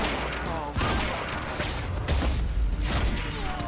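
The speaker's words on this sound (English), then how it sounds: "Oh, the grenades are disrupting me." Grenade blasts in the video game Quantum Break, several deep booming explosions one after another amid crackling gunfire, loud and close with a voice briefly heard.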